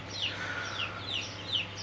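Eleven-day-old Sonali super hybrid chicks peep in a regular series of about four high, falling chirps, soft and fairly close, with no talking.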